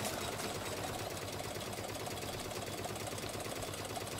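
Boat engine in The Flame in the Flood, a steady, fast mechanical chugging and rattling drone, even in level and fairly close, running on with no talking.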